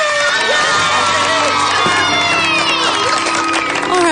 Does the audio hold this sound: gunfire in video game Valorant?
no